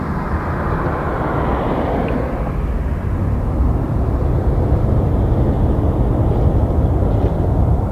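A jet aircraft taxiing at Toronto Pearson airport, a loud, continuous low engine rumble and roar that swells slightly toward the end, heard at night with no talking.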